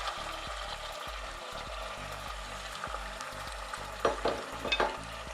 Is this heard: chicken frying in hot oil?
yes